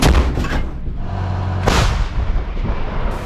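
An artillery gun on the front line fires a shot, a loud, close, heavy boom with a rumbling tail, followed by a second blast-like burst and lingering reverberation.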